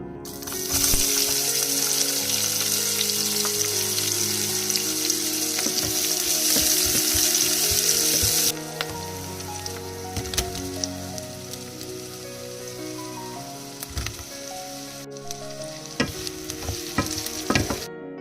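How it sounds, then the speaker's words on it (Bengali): Whole cumin and then bitter gourd hit hot oil in a wok, giving a loud, dense, rain-like sizzle that drops to a softer crackle midway, with occasional stirring clatter and no talk. "তেলটা গরম হলেই দিয়ে দিলাম অল্প একটু গোটা জিরে"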